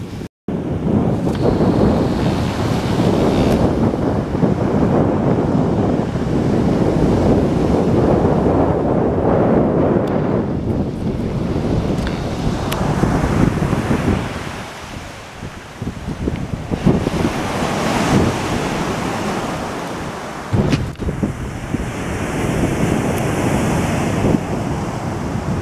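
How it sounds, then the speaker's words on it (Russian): Strong wind by the sea in Spain roars steadily into the microphone beside crashing surf, a continuous heavy rush that eases briefly midway before building again. "Тут уже ветер сильный."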